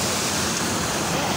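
Strong water rushes over a river spillway near Gingoog City as a loud, dense, continuous roar with no breaks.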